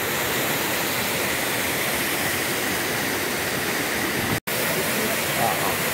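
Palchuram waterfall in Wayanad, a steady loud roar of falling water filling the whole clip, broken only by one brief cut near the end.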